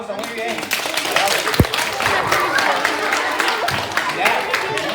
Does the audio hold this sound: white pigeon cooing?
no